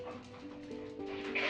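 Hungry dogs whimpering and giving soft yips close by at mealtime during outdoor cooking, steady and fairly loud across the short moment with a brighter cry near the end.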